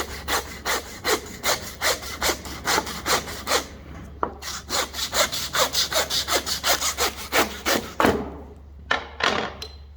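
Close hand saw cutting through a pork ham hock bone during homestead hog butchering, a fast rhythmic series of rasping strokes, pausing briefly midway, then resuming and ending with a few slower scrapes.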